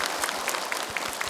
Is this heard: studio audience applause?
yes